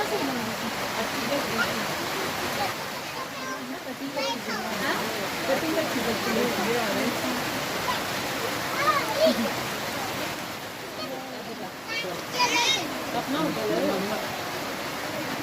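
Constant broadband hiss of rain and flowing water in Neelum valley, Kashmir, steady throughout with faint voices and splashes mixed in.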